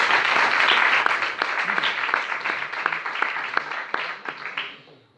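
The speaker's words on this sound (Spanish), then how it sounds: "Damos un fuerte aplauso a Luis Vara Japón." Lecture audience applauding a speaker, dense and fairly loud clapping that swells at the start, turns into more distinct rhythmic claps, then fades out at the end.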